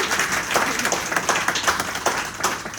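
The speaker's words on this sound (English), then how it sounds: "let's give a huge round of applause and welcome the author of White House by the Sea" Steady audience applause greeting an author at a book talk on the Kennedys at Hyannis Port, dense clapping filling the short stretch without pause.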